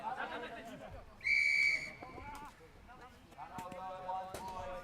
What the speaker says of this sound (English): you've just heard a whistle there